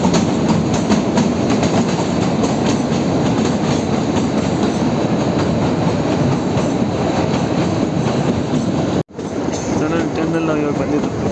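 The Kalka–Shimla toy train roars loudly and continuously as it runs through a long tunnel, a dense rumble of wheels and carriages with a brief dropout near the end and voices mixed in.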